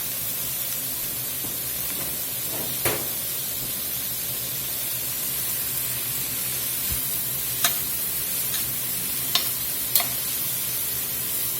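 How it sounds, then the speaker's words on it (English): Onions cook down in a stick of melted butter in a pot, a soft continuous sizzle and hiss with a few sharp utensil clicks now and then, no talking. "We're going to let these onions cook down in that butter."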